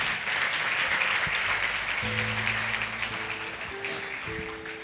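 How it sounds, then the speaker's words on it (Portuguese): A church congregation applauds during a communion service, a steady, moderately distant wash of clapping that holds throughout while soft sustained music tones sound beneath it. "Você pode aplaudir o Senhor para a vida desses irmãos que estão aqui na frente?"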